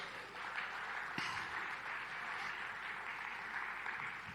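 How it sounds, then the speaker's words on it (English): A conference audience at a keynote talk gives a round of applause, a soft, continuous wash of many hands clapping heard from a distance, fairly faint throughout. "a round of applause for the artists who did the amazing art up here on stage"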